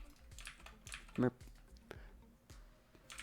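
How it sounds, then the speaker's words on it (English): Sharp keyboard clicks come in a few scattered taps with one louder burst of keystrokes, close by under a man's speech. "So we'll hit Control A on our keyboard"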